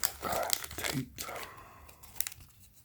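Taped mail package of trading cards torn open by hand, close crinkling, ripping tape and rustling cardboard in short bursts.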